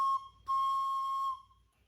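A homemade wooden whistle made of poplar is blown in two short shrill blasts, the second one held longer, loud and clear and alone.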